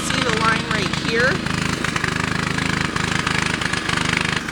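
A lawn mower mows a garden, its steady mid-pitched engine drone running continuously at moderate distance while a person talks over it.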